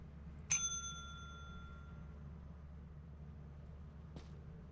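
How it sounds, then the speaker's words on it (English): A bell rings once in the Lethal Company video game, a bright metallic ding that rings out and decays over about a second and a half in quiet surroundings, followed by a short faint click a few seconds later. "put this axle right here and just ring this bell"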